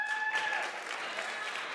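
An audience applauds together at a family talk about Christmas movies, a steady, fairly faint patter of many hands filling the short stretch with no voices on top.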